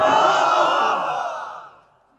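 A crowd chanting takbir (Allahu Akbar) in response to a call, a loud massed shout of many voices that swells at once and then trails away over about two seconds.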